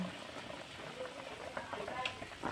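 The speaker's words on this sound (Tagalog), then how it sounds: "Hinaan yung apoy kasi baka umawas yung tubig sa ibabaw" Water boiling in a large pot used for steaming fish, a quiet continuous bubbling and popping with faint voices in the background.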